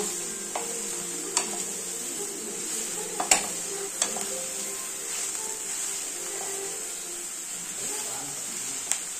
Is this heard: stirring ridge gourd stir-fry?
yes